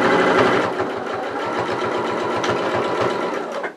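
A sewing machine stitches steadily across the front neckline of a fabric project, a loud close, even rapid chatter of the needle that runs continuously before stopping abruptly at the end.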